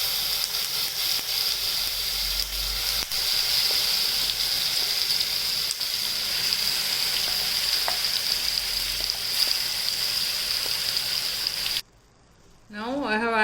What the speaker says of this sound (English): Now I have added all the grinded pudina to the pan and I will fry it for 5 to 10 minutes